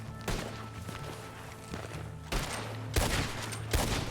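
Gunfire crackles through a shootout in the Western roleplay game RedM, with bursts of overlapping shots and dull thuds arriving in uneven clusters, loudest near the end, over a steady low game hum.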